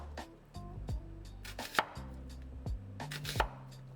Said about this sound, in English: We typically use about half an onion, which we then slice.